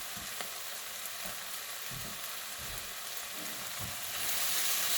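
Onions and apple frying in a pan, a dense continuous sizzle with soft low thumps of a utensil stirring, growing slightly louder near the end; no talking.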